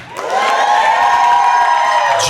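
Comedy club crowd at the Miami Improv breaking into loud cheering and applause, a dense sustained roar of voices and whoops with clapping that swells quickly and holds strong throughout.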